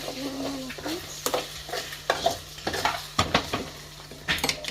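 Chicken with chicken masala and garam masala frying in a pan, shaken and stirred so the spoon scrapes and clatters in quick repeated strokes over a steady close sizzle.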